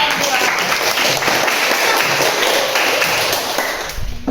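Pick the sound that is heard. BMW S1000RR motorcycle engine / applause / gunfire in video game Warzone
applause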